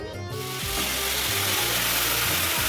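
Water pours steadily into a hot pan of rice for Basanti pulao, hissing and sizzling loudly and continuously at close range, with faint stirring underneath.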